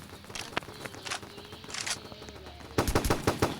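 Pistol shots in an FPS shooter game come as scattered sharp cracks, then a quick rapid burst of several shots near the end, over faint background game noise.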